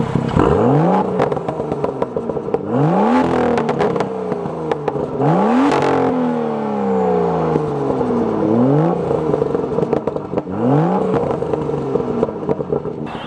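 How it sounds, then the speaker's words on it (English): A BMW F87 M2 revs repeatedly, with its exhaust note rising and falling through about five sharp climbs and drops plus crackles on lift-off, loud and close, with no talking. "I'm gonna give you guys some exhaust notes."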